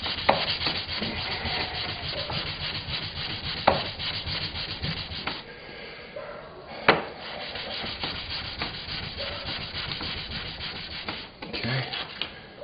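Wood is hand-sanded with 400-grit sandpaper in a workshop, a close, rhythmic series of back-and-forth rubbing strokes with a few sharper scuffs and brief pauses between passes.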